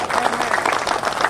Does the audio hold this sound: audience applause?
yes